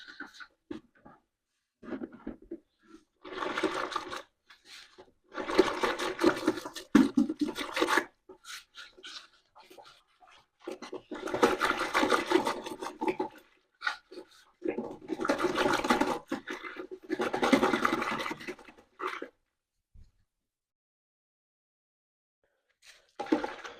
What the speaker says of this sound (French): Il faut bien remplir les bords du seau et bien envoyer le fouet jusqu'au fond du seau.